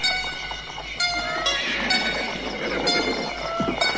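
Horses walking at night in an audio drama, steady hoof clops under a bed of night creatures and ringing bell-like chimes, moderately close and continuous.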